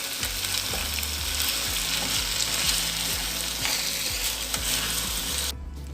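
Green masala chicken fry sizzling steadily in a pan on the stove, a loud, dense crackle with rhythmic scraping thumps from stirring, cutting off abruptly just before the end.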